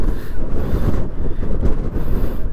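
Strong wind roars and buffets loudly against the microphone in continuous heavy gusts at a hillside viewpoint, with no voices.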